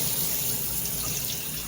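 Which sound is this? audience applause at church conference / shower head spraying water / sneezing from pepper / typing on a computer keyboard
shower head spraying water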